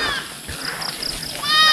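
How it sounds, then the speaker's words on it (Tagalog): A native goat kept with its kid lets out a bleat that rises clearly near the end, heard close by over faint farmyard background noise. "Tapos yung isang kambing pa natin kay Sir Caro"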